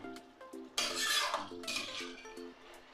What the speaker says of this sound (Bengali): গরম জল একটু দিয়ে দিচ্ছি, মশলাটা কষুক